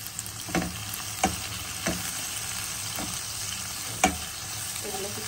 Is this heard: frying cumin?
yes